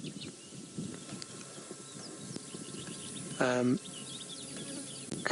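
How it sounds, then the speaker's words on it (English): Faint bird chirps scatter in the background on safari, with one louder, clearer call partway through; a voice is briefly heard. "in the distance I can hear a few other birds calling."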